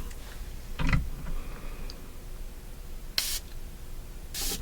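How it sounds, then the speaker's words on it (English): Two short, crisp hissing sprays from a perfume bottle, a couple of seconds apart, with a faint click earlier in the quiet. "Let's spray this one."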